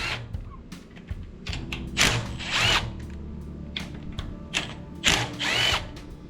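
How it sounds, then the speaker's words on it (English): A cordless impact wrench on an outboard motor, a Yamaha F90 or F115, backs out the water pump housing bolts in several short whirring, rattling bursts close by, with ratchet-like clicks in between. "so I'm just going to use my cordless impact here"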